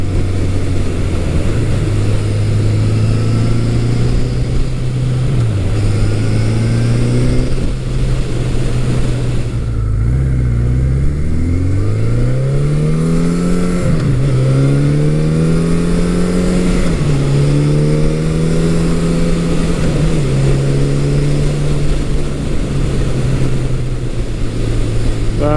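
A 1983 Suzuki GS1100E motorcycle engine revs on a test ride, its pitch repeatedly rising and dropping through gear changes over a steady loud drone, with nobody talking.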